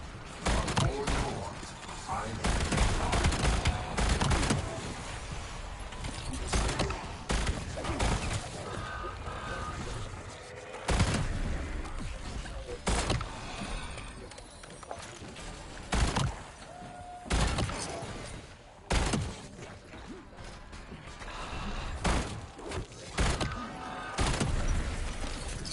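Pistol gunfire in the video game Black Ops 7, sharp shots in quick bursts with thuds and game sounds layered over a dense mix, while people talk throughout.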